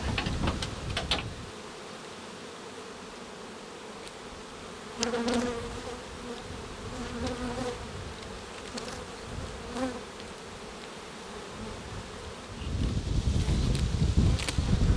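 Many bees buzz around an open Ukrainian-Alpine hive during a queen replacement, a moderately close hum with sharper passes of individual insects and a gust of wind rising near the end.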